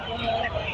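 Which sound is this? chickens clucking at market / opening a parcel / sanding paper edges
chickens clucking at market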